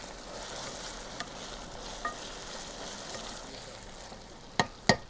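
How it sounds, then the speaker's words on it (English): Vegetables for ratatouille fry in a pan with a steady, soft sizzle throughout, punctuated near the end by two sharp clatters as the pan or utensil is moved. "When I move that, you can hear it's starting to fry"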